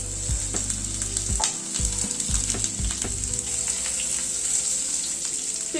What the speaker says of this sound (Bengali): পেঁপেটাকে দিয়ে একটু নাড়াচাড়া করছি।